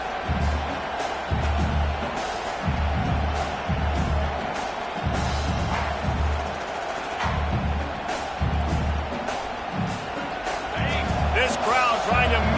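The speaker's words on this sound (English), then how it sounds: "This crowd trying to make life miserable for this offense." Football stadium crowd at a Cal at Virginia Tech college game, a steady loud roar filling the whole stretch with swells of cheering, under continuous play-by-play commentary.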